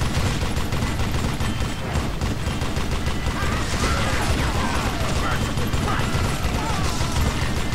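Rapid, minigun-like gunfire in the video game Call of Juarez: Gunslinger roars as a loud, dense, continuous stream of shots with mechanical rattling throughout.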